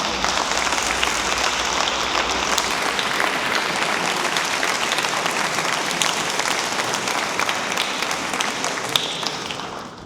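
An audience at a Montpellier bar conference evening breaks into sustained applause, dense and even for the whole stretch, with many hands clapping at once and fading slightly at the very end.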